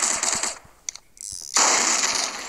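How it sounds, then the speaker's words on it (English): Rapid SMG fire in the Hypper Sandbox video game comes as a steady, loud, buzzing stream of shots, broken by a short pause with a few clicks before the stream resumes. "That is definitely faster than SMG spam or revolver."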